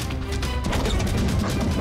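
A cupboard being shoved until it crashes, a dense loud clattering smash that fills the whole moment, close and heavy.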